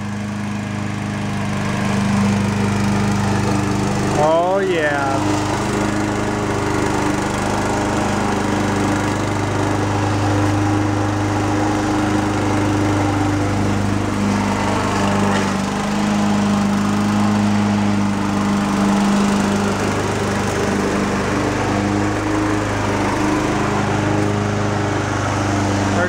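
A newly bought lawn mower engine runs steadily and loudly nearby with a constant droning hum throughout, and a brief voice is heard over it.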